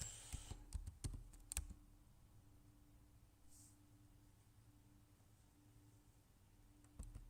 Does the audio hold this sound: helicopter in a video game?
no